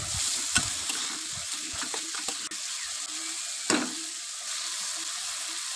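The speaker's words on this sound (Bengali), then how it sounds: "এবার সবগুলো ভালো করে মিক্স করে নেব।" Fish roe being stirred in a hot pan with chopped green chili, garlic and a little ginger paste, giving a steady sizzle with scraping spoon strokes and an occasional louder clack, no voices.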